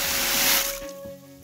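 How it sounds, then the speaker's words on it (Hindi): Water gushes hard from a fully opened tap at a village home, a loud, broad rushing stream that cuts off partway through, leaving a quieter hum behind. "वो एक पानी का धारा है, टोटी आई है पूरी और पानी इसमें 24 घंटे रहता है।"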